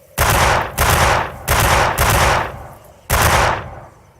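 Rifle gunfire in the video game Darkest of Days, five loud, close shots with short ringing tails, the first four in a quick uneven run and the last after a brief pause.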